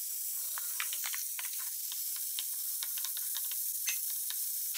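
Beef rump browns in butter over very high heat, giving a close, continuous sizzle dotted with rapid crackling pops and spits throughout.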